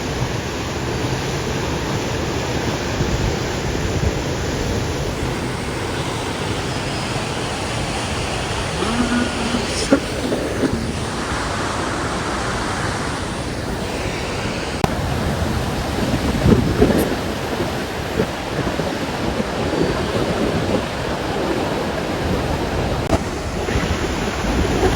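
A fast-flowing mountain river near Mana village rushes steadily with broadband roar, mixed with wind buffeting the microphone throughout, no speech.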